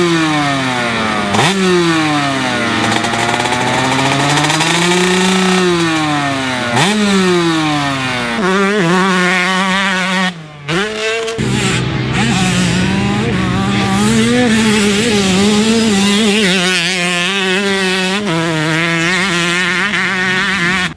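A Yamaha YZ134 two-stroke motocross bike engine revs loudly and close, its pitch sweeping up and down in repeated throttle blips, then holding a high, raspy rev after a brief cut near the middle.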